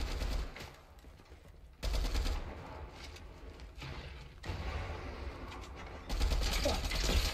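Gunfire in the video game Fortnite: rapid automatic bursts crack out in several loud clusters separated by brief lulls, with game effects rumbling underneath.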